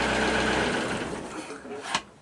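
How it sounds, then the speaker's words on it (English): Inboard engine of a skipjack sailboat running steadily, a dense continuous mechanical drone that fades somewhat toward the end, with a brief louder knock near the close. "That charges the field while the engine's going."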